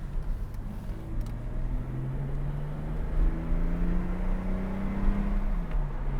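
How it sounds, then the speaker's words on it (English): A 1982 BMW's 2-litre M60 straight-six idles and then revs gently, a smooth low hum that climbs slightly in pitch and settles back down, heard close and alone with no talking. "let's get head to head with that Little Six engine, known as the M60 in this car"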